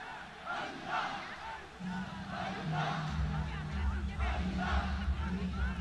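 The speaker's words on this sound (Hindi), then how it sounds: "किस तरह से अल्लाह अल्लाह की पुकार है" A large crowd at the Wagah border parade ceremony chants "Allah Allah" in loud, rhythmic bursts about once a second. A low hum runs underneath and the chant swells toward the end.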